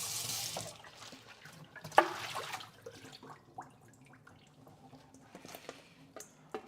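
Cabbage is rinsed under a running kitchen tap, with a soft water stream, splashes and drips close by and one sharper clatter partway through.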